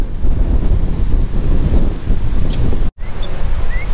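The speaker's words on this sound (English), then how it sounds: "Pretty windy down here, so I'm not sure how good the sound is going to be, but as you can see, the surf's a little rough today." Strong wind buffets the microphone at Myrtle Beach while rough surf rolls and crashes, a steady roaring wash that drops out briefly near the end, with no voices.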